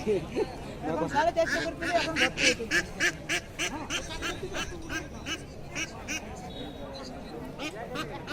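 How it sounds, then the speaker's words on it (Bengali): Ducks quack and honk in a dense run of loud, rhythmic calls at a crowded village market on Manasa Puja day, with a busy crowd murmuring and talking underneath. "এই হাঁস"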